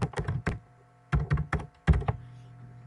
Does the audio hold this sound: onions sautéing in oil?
no